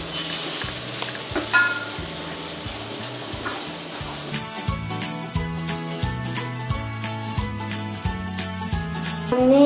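Food frying in hot oil in a home kitchen, sizzling steadily while it is turned and stirred, with repeated soft clinks and scrapes of a utensil against the pan in a regular rhythm, close and fairly loud.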